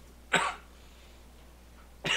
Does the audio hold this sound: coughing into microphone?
yes